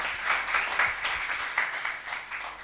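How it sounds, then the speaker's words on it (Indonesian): A church congregation applauding, a dense, steady crackle of many hands clapping together for a few seconds at moderate distance, with no talking. "Tepuk tangan yang meriah untuk Tuhan Yesus."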